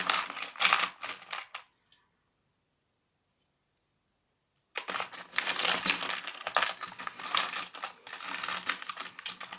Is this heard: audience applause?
no